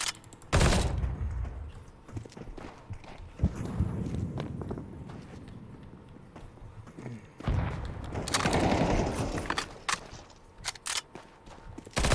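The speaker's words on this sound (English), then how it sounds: "Throwing a grenade. Flashbang out." A flashbang grenade thrown in Counter-Strike 2 amid gunfire bursts and footsteps, with loud rattling shots at the start and a louder stretch of firing later, set against quieter movement noise.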